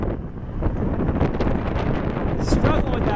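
Strong wind buffeting the microphone at Hartsfield airport in Atlanta during a wind advisory, a loud continuous rumbling roar with gusty flutter up close.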